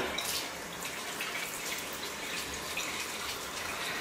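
A makeup remover disc is washed under running water with a bar of olive oil soap, producing a continuous tap flow with splashing and small scrubbing noises nearby.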